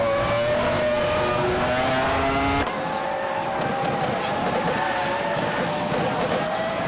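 Race cars in a racing video game on the short Mugello circuit, engines whining and shifting pitch as the pack passes close together, steady loud roar with overlapping revs throughout.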